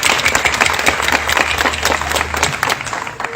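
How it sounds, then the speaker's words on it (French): A crowd at a political rally in Guinea applauding the embassy, with loud, close clapping in a dense burst of quick hand claps that continues throughout the short stretch. "Je vous demande d'ailleurs d'applaudir l'ambassade"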